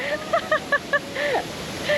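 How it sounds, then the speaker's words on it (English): A waterfall in Ubud, Bali, gives off a steady broadband roar of rushing water, with bright bird chirps calling repeatedly over the top and no talking. "I think it's my favorite waterfall."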